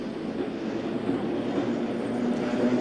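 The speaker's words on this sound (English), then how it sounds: "The service then passed to trains of Q stock," London Underground Q stock train, vintage carriages built between 1923 and 1938, running at New Cross, giving a steady, loud continuous rumble of wheels and motors with no break throughout.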